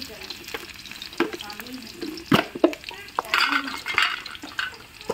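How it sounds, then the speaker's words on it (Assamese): Onions fry and sizzle in mustard oil in a home kitchen while a utensil scrapes and stirs the pan. The bubbling is close and steady, with sharper clinks and scrapes scattered throughout. "মিঠাতেল আৰু পিঁয়াজ দিয়া হৈ গ'ল"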